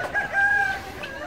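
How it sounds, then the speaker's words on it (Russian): A hen in a Turkish village gives a few faint, brief, tonal clucking calls at a distance, set against quiet outdoor ambience. "Смотрите, какая курочка необычная."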